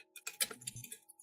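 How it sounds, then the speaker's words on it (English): Rapid clicking of keyboard keys during an online meeting, a short burst of light taps at moderate volume with no speech over it. "I just heard someone typing."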